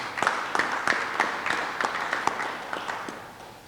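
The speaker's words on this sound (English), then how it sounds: "I do believe we should give them another round of applause." A small group clapping for health workers, sparse and fairly close individual claps in an uneven rhythm that fade slightly over a few seconds.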